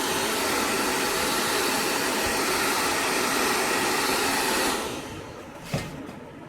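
A hair dryer blows at full power, a loud steady rushing roar, during a multi-layer haircut. It holds nearly five seconds, then drops off sharply to a faint hum with a brief click.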